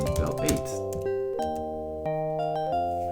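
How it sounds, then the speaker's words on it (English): Temple bell eight rung in the DOS adventure game Eric The Unready: a burst of synthesized chiming opens, followed by a series of sustained, overlapping bell-like tones that strike and ring out one after another. "Let's ring bell 8."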